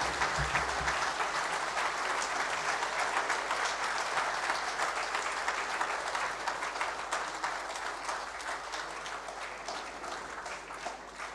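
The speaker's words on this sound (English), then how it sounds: "let's continue a round of applause for the Governor of the Central Bank of Nigeria, Mr. Godwin Emefiele, CON" Long, steady applause from a large seminar audience for the Governor of the Central Bank of Nigeria, Godwin Emefiele, dense clapping that tapers slightly toward the end.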